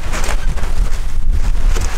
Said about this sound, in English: Got quite some wind out here today.